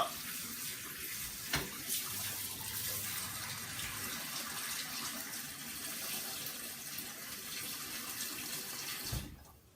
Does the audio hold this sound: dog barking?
no